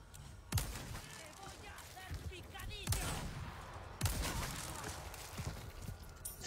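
Three sharp gunshots from Resident Evil 4 Remake gameplay, spaced a second or two apart, each followed by a ringing tail over a busy, noisy game soundscape.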